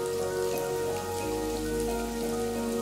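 Rain used as a sound effect in a stage comedy sketch makes a steady, dense patter on a surface throughout, with a low hum underneath and no talking.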